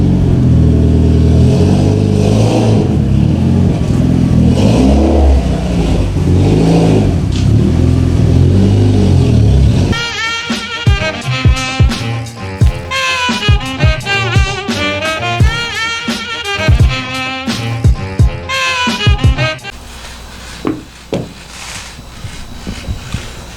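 A car engine revs in rough, steady bursts for about ten seconds, loud and close, then gives way to music for the rest.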